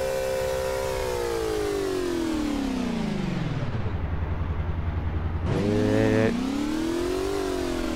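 A car engine in a video game hums continuously as the car is driven, its pitch sweeping down to a low idle-like rumble, then jumping back up with a sharp rev before climbing again.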